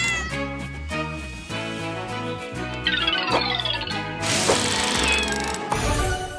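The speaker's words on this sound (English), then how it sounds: "Look, that cat up in the tree." Cartoon cat stuck up in a tree in the PAW Patrol Rescue World video game, meowing over cheerful game music, with a few bright chime effects.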